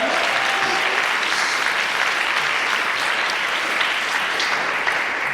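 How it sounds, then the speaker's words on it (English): An audience claps loudly and steadily at a tech business event podcast taping, dense continuous applause throughout with no talking. "Can we give a round of applause for that?"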